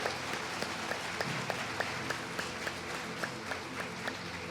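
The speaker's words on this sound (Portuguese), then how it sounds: "aplaude, gente, é testemunho" An audience applauds steadily during a church service, a dense wash of clapping with a few sharper claps standing out, moderately distant and continuous throughout.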